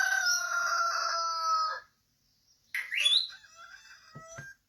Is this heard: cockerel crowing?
yes